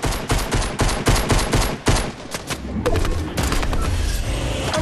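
Video game gunfire comes in dense rapid bursts of loud, close shots, then a short pause and a steadier stretch of automatic fire.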